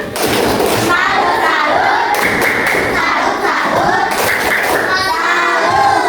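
Children in a primary school classroom performing the tepuk salut clapping routine, loud rhythmic claps and thumps with kids' voices chanting along, close and energetic throughout.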